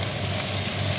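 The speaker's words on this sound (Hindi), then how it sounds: "और यहाँ पे थोड़ा कढ़ाई पनीर बन रहा ना" Kadai paneer frying in a kadai, a steady, dense sizzle that holds at an even level throughout, close and continuous.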